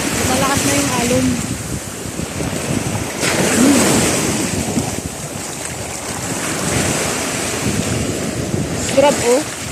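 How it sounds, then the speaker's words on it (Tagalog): Strong ocean surf at Al Khafji beach, Saudi Arabia, churns and crashes continuously, with heavy broadband wash and wind buffeting the microphone. "Malakas na yung alon."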